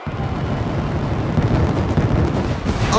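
Fireworks during a wrestler's entrance in a wrestling video game: a dense, continuous roar of booming bursts and crackle that stays loud throughout, with no talk.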